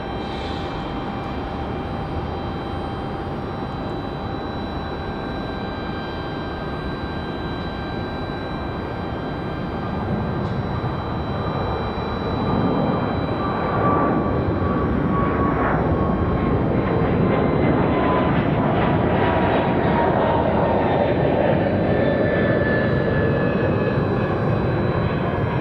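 A Delta Airbus A220 airliner takes off at Raleigh-Durham International, its engine roar building steadily from a distant whine into a loud, sustained rumble that swells over the second half.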